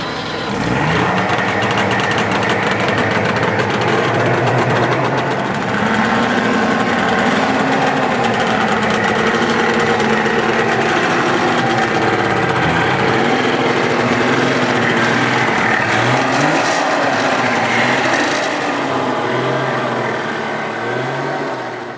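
DKW Junior car's two-stroke engine running steadily nearby, a buzzy, raspy drone with small wavering rises and falls in revs throughout.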